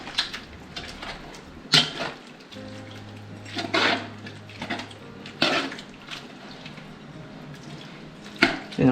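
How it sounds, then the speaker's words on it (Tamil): Spoon stirring rice through a pot of chicken biryani after lime juice is squeezed in, with scattered metallic scrapes and clinks against the pot, some louder knocks and a low background hum. "புழிஞ்சு விட்டோன்னே ரைஸை ஃபுல்லாக கலரி விட்டுருங்க"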